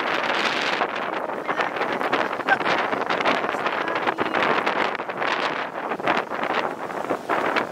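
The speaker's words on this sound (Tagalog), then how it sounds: "Hindi ko alam kung naririnig siya sa camera, pero lakas ng hangin." Strong, steady wind roars and buffets on a beach in Ilocos Norte, Philippines, gusting continuously with broadband rushing noise and no voices.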